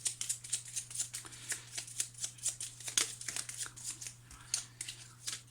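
Tarot cards shuffled in quick, repeated bursts of crisp papery slaps and riffles, close and fairly loud, over a low steady hum, with no talking.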